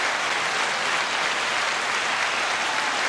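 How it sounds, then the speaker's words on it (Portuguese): Steady, dense applause from a crowd, fairly loud and continuous throughout with no pauses and no talk over it. "Muitas palmas."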